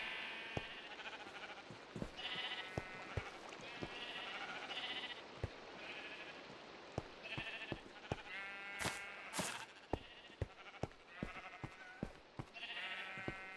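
Sheep in a Minecraft underground wool farm bleating repeatedly, overlapping short baas from several animals at a soft level, with sharp clicks and taps scattered throughout and no talking.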